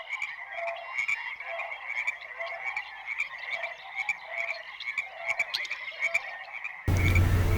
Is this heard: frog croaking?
yes